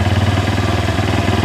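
A Honda CB Verza motorcycle engine idles steadily up close with a rough, pulsing chug and slight sputtering irregularity, no voices.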